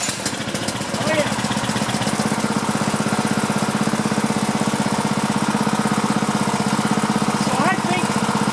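Small engine catches after a brief start attempt and settles into a steady, loud, close-up running drone with fast knocking pulses, continuing without pause; a person talks at the start.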